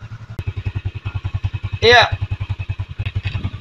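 Yamaha Jupiter motorcycle engine idling close by with a rapid, even chugging pulse, interrupted briefly by a short spoken word.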